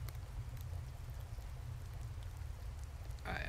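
Rain falls in the Card Survival: Tropical Island game, a soft, steady patter with low rumbling texture that runs continuously. It stays fairly quiet, and a brighter rustle enters near the end.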